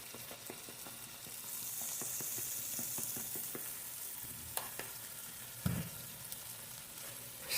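Binagoongang bangus, milkfish in shrimp paste, sautéing in a pan with ground black pepper just added, giving a steady broad sizzle with scattered clicks of stirring and one louder scrape near the end.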